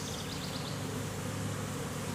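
Honeybees swarm and buzz thickly around an open hive under inspection, a constant close droning hum that stays level throughout, with no voices.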